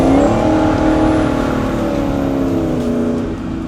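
A supercharged V8 drift truck's engine revs hard on a large road course, a loud, close, sustained roar with wavering pitch that eases off slightly at the end.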